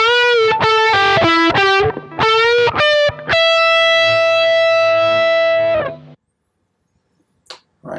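A distorted electric guitar plays the closing bar of a solo. Several quick picked notes lead into a long sustained bend that rings out loud and up close for a few seconds, then stops dead into silence.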